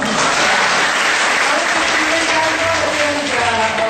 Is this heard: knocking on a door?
no